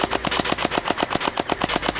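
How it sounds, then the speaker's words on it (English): A gel blaster fires on full automatic at about ten rounds per second, a rapid, even string of sharp close pops with no pauses and no talking. "This blaster shoots 10 rounds per second, which is very fast."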